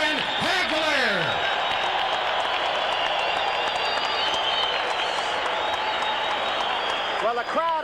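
Boxing arena crowd roars and applauds a middleweight champion after a technical knockout win, sustained loud cheering with a commentator talking over it.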